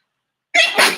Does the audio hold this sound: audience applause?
no